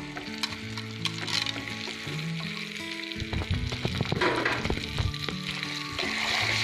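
Amla pieces stirred with salt in a pan for Punjabi pickle, giving steady close scraping and clinking stir sounds with a sizzling, wet texture throughout.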